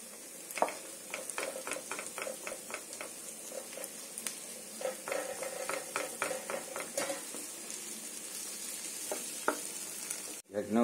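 Tomatoes and banana flower sauté in a pan under a steady sizzle, with repeated stirring scrapes and light taps of a utensil against the pan, close up and without talking.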